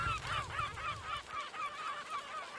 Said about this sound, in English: The seagulls must have found some dead carcass.